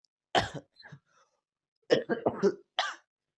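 Several dry coughs in two bursts, close and fairly loud, separated by a brief pause, with a short throat-clearing sound at the end.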